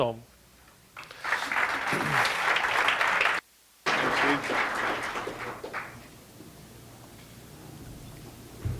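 An indoor conference audience claps steadily to welcome a presenter, the applause swelling loud for several seconds, breaking off briefly, then thinning out into scattered claps.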